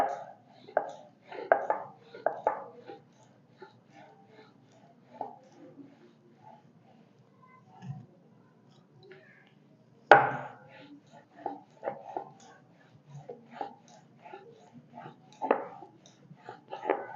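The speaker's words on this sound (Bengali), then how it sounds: "একে একে আমি সব রুটিগুলো এইভাবে বেলে নেব।" Roti dough being rolled out with a wooden rolling pin on a board, giving irregular clusters of soft knocks and thuds, with quiet gaps between bursts and one sharper knock partway through.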